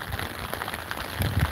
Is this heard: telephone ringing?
no